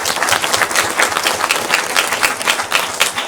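Dense crowd applause fills the room for a well-known radio host, steady and loud throughout with no break, a few sharper claps standing out in the wash.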